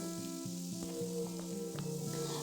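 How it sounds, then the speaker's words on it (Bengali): Two large onions, chopped, go into hot spiced oil for a chicken and potato curry, giving a steady close sizzle with a faint hum, a few soft clicks and no voices. "এর মধ্যে আমি দুটো বড় বড় সাইজের পেঁয়াজ কুচনো এটা দিয়ে দিলাম"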